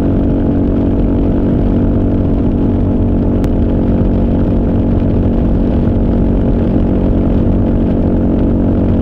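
Kawasaki KLR motorcycle engine cruising at 85 mph near 6,000 RPM, a loud, constant close-up drone with a steady buzzing rumble and wind roar, unbroken from start to finish.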